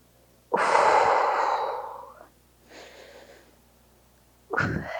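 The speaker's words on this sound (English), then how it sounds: "just take a couple breaths here" During an upper-body stretch in a strength workout, a person takes a long, loud breath close up, then a softer one, and after a pause starts another sharp inhale. No one speaks.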